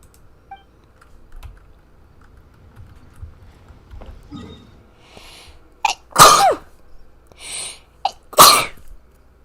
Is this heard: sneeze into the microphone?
yes